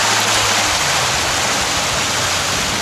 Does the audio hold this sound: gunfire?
no